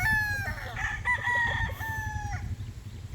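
Young gamecock stag tied up in a yard crowing once, a close, loud, drawn-out cock-a-doodle-doo lasting about two seconds before it trails off into quiet.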